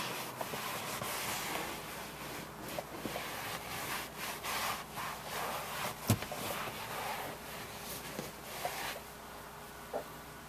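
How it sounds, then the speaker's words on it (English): Microfiber cloth wiping excess product off a leather car seat, a steady soft rubbing and swishing with brief sharper scuffs throughout, close and moderately loud with no talk. "I'm going to take my microfiber, wipe up the excess."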